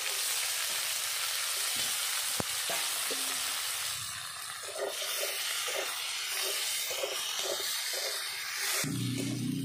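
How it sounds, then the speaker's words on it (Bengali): Chopped onion and tomato fry in hot oil with a continuous close sizzle and hiss, broken by occasional stirring scrapes, and a sharper burst of sizzling at the very end. "পেঁয়াজ টমেটোটা ভালো করে ভেজে নিয়েছি"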